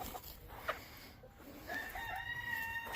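A rooster crows on a homestead: a drawn-out, harmonic call in the second half follows a brief cluck earlier on, all over steady outdoor background noise.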